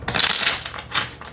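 A deck of tarot cards being shuffled up close, a quick crisp riffle of papery flicks followed by a second shorter burst, fairly loud with no voices.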